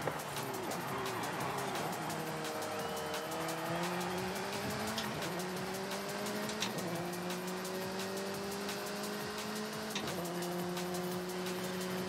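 A Peugeot race car drives in Forza Horizon 5, its engine a continuous whine climbing through repeated gear shifts, with occasional tire squeals over a steady bed of noise.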